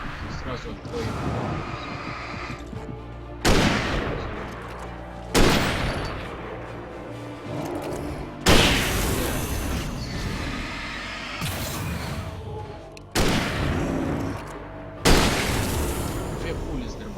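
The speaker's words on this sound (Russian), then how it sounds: "Две пули с дробаша в лицо." Shotgun blasts from the video game Alan Wake boom at intervals of about two seconds, each sharp heavy report decaying into a rumbling tail, with a voice talking throughout.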